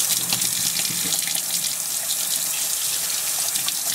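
Water runs steadily from a tap, rinsing off a wooden surface after it was treated against rot and insects; a continuous, close, even splashing hiss with no talk.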